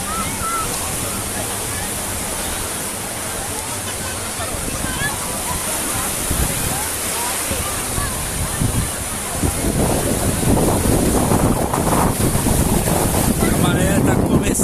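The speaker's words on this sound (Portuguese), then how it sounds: "porque as ondas estão chegando agora aí, chegando perto do meio-dia" Ocean waves break on the rocks of a beach near midday, a rushing surf roar mixed with wind buffeting on the microphone, growing louder and rougher toward the end.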